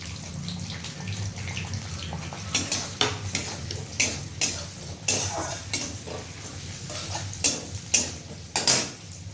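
Chopped onion frying for a Mughlai paratha filling, a low steady sizzle broken by repeated sharp scrapes and clanks of a spatula against the pan, close, no talking.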